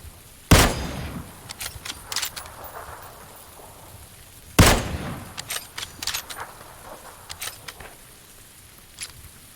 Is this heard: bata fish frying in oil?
no